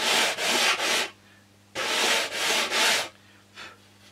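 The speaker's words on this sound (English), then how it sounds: "you can also use sandpaper. Just make 45-degree bevels down to your line." Coarse 80 grit sandpaper rubbing soft balsa wood, heard as two bursts of three quick, loud, close strokes each, ending in one fainter stroke, with short quiet gaps between.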